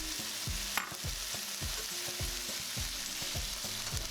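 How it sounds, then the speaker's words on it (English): Diced tomatoes and onions fry in a pan while a utensil stirs them, giving a steady sizzle under rhythmic scraping strokes about twice a second, close and clear with no talking. "Let's keep stirring this for another 5 minutes."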